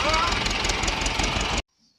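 Tractor engine running at a steady, close, loud rumble for about a second and a half before cutting off abruptly into silence.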